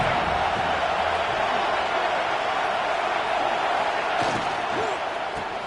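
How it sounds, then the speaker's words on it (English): Steady, loud crowd roar from a stadium in an American football video game, a dense continuous wash of noise with no breaks. "This crowd ready to make its presence known."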